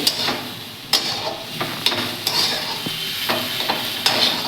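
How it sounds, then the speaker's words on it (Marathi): Green peas being stirred into samosa masala frying in a pan, with repeated sharp spatula scrapes and knocks over a soft sizzle, close and fairly loud. "हे पण छान असे मटारचे दाणे यामध्ये मिक्स करून घ्यायचे आहेत मसाल्यामध्ये"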